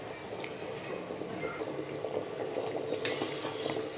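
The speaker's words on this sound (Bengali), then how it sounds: "এইভাবে কিছুক্ষণ অন্তর অন্তর চালটাকে হালকা হালকা হাতে আস্তে করে নেড়ে দিতে হবে, চালটা যেন তলায় লেগে না যায়" Rice for chicken biryani being gently stirred in a pot of simmering water, a soft continuous bubbling and swishing with faint scrapes and light clinks of a utensil.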